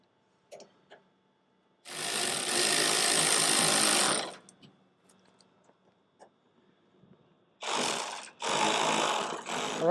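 A power driver runs screws in to fit an S&B mud flap delete on a 2019-2026 Chevrolet Silverado 1500, two sustained close whirring bursts with a short pause between the second pair.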